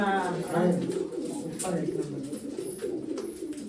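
Domestic pigeons coo in soft, repeated throaty calls, close and continuous, while someone talks over them.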